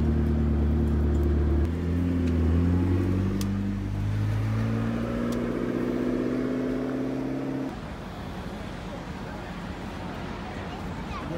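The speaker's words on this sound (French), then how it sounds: "maintenant on va écouter le bruit. Le bruit de la McLaren." A McLaren sports car engine idles with a steady, deep burble, then the tone shifts and drops to a rougher, lower rumble partway through, loud and close with no talk over it.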